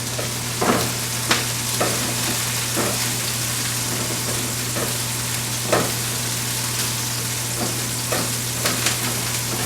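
Mushrooms fry in olive oil in a pan for a gluten-free pork sausage and egg scramble, with a constant loud sizzle broken by several sharp scraping stirs at irregular intervals and no talking.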